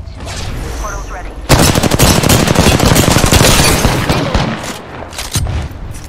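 Video game gunfire erupts after a quiet ambient stretch into a dense, loud, sustained barrage of rapid automatic shots and bursts, tapering slightly near the end before another burst.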